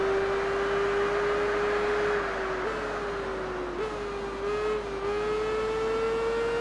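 Tourist Trophy racing motorcycle engine holds a steady high drone with brief dips at gear shifts, loud and continuous, another bike close behind.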